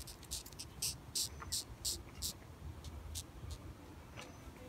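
Grating defensive sound of a beetle, a series of short bright rasping pulses in an uneven rhythm over steady background hiss, fairly close.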